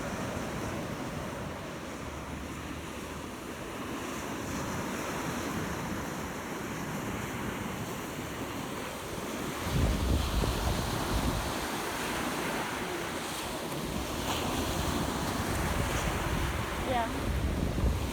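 Ocean waves washing up on the beach at South Seas Resort on Captiva, heard as a continuous rolling surf roar with wind buffeting the microphone and gentle swells in loudness.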